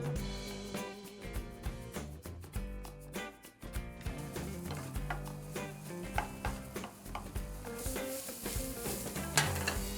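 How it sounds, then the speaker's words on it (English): Chopped onion sautéing over a low flame in about a tablespoon of olive oil in a pan: a soft, steady sizzle with occasional stirring clinks, set against prominent background music. "I'm going to now saute the onion with a little bit olive oil"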